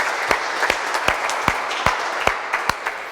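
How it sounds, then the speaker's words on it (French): A congregation at a church mass applauds together, a near, sustained round of clapping with regular louder claps standing out at a steady beat, and no talk over it. "On applaudit ces gens-là."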